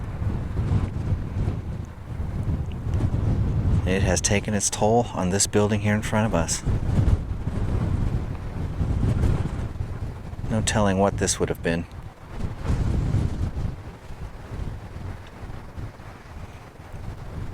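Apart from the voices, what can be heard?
strong wind on mountain top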